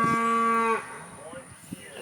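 A beef cow on a farm, raised for meat, gives one long, loud moo with a steady tone that ends abruptly, followed by faint low rustling and a few soft thumps.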